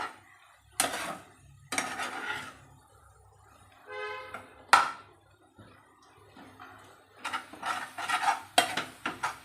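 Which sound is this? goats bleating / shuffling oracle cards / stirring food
stirring food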